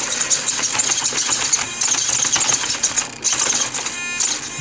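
A Spektrum S6040 servo steering a Losi TEN SCTE short-course RC truck, with a steady loud high-pitched mechanical whine and buzzing that continues throughout.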